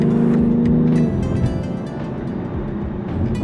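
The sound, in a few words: BMW X3M Competition S58 engine exhaust note while accelerating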